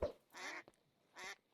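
Cartoonish duck quacks from a video game set in an underwater base, two clear bursts separated by a short gap, loud and alone with no talking.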